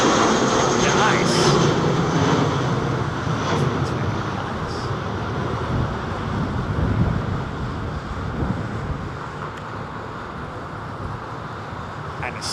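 Jet airliner engines at London Heathrow Airport, a broad continuous roar that swells and slowly fades, with wind noise buffeting the microphone and people talking over it.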